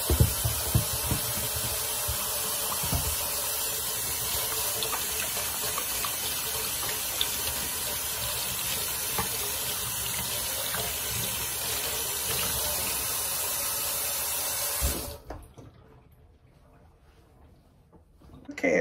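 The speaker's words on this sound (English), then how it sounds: "the first thing we're gonna do is we're gonna wash our hands" Tap water runs steadily into a kitchen sink while hands are washed beneath it, a continuous splashing hiss that cuts off abruptly near the end, leaving near silence.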